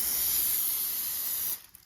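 Canola oil spray hisses onto an aluminium tray in one steady, close burst lasting about a second and a half, then cuts off abruptly.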